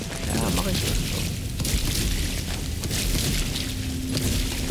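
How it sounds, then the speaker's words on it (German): An exploding arrow detonates in the co-op action game Strange Brigade, a loud, sustained rumbling blast across the whole stretch, with people talking over it. "Weil ich habe da mit dem brennenden, mit dem explodierenden Pfeil drauf geschossen."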